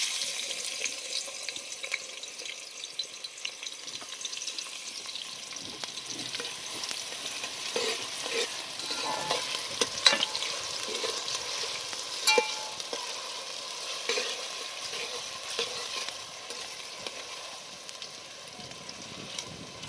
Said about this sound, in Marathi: कांदा चांगला लाल तळून घेणार कांदा मस्त तळून घेतला लाल